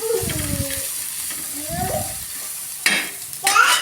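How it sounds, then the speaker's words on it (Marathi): Dal fries over a low flame in a pan while a spoon stirs it in short scraping bursts, with a soft sizzle running underneath and a few louder scrapes near the end. "हलवायचं"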